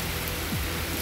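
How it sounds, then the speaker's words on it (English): Steady rain falling outdoors during a channel catfish fishing trip, a dense even hiss of drops on surfaces filling the whole short moment with no talk. "You can see the rain not slowing my fishing down a bit"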